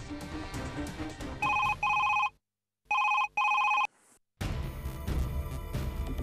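A telephone rings during a call home in a Hindi TV drama scene, with two short bursts of electronic ringing, then a break, then two more bursts, set against a busy background of music and sound.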